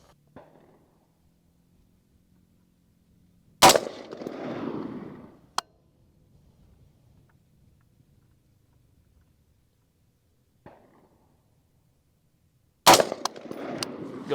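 Two sharp, loud AR rifle shots about nine seconds apart at an outdoor range during zeroing, each a hard crack followed by a short rolling echo, with quiet stretches and faint background noise between them.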